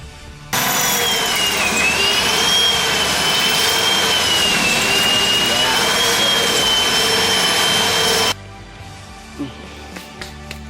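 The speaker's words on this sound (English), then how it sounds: "we're going to drill into these rivets" A loud, steady high-pitched power drill whine drilling into rivets on a 1965 Ford Mustang during upper ball joint installation runs continuously for several seconds, then cuts off, leaving a few faint clicks and taps.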